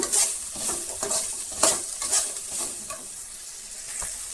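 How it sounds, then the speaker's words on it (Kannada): About a quarter kilo of okra fries in a pan with a steady crackling sizzle, broken by several sharp scraping stirs and clinks of a utensil against the pan. "ಬೆಂಡೆಕಾಯಿ ಚೆನ್ನಾಗಿ ಫ್ರೈ ಆಗಬೇಕು"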